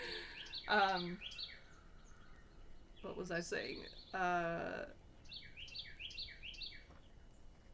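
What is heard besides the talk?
birds singing at a bird seed feeder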